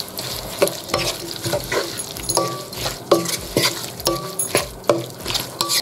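Spiced boneless chicken fries and sizzles in a pan, stirred in steady repeated scrapes and clatters of the spoon against metal, loud and close with no talking.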